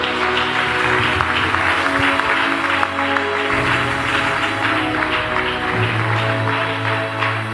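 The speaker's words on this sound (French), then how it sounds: "Acclamez pour le Seigneur." A church congregation applauds and cheers for the Lord in a steady, loud wash of clapping and voices, with music droning beneath it throughout.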